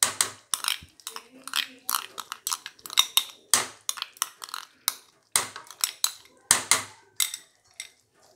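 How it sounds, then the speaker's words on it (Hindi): A metal ladle scrapes and clinks steadily against a pan while chicken karahi with green chilies, ginger, cream and yogurt is stir-fried over high flame, giving a brisk, close, rhythmic series of sharp taps and scrapes with no talking. "और अब इसकी हम अच्छे से भुनाई करेंगे हाई फ्लेम पर।"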